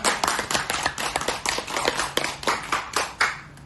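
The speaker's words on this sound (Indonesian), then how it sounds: "Tepuk tangan dulu untuk ibu-ibu" Scattered applause for a group of women teachers at a teacher training session, a steady patter of hand claps from a modest crowd running throughout at close range.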